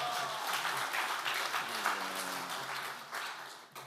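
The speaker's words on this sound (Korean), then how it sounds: "박수로 환영하시겠습니다" A church congregation at a men's mission prayer meeting claps to welcome a pastor to the pulpit, a moderate, fairly distant patter of applause with faint tonal sounds beneath it.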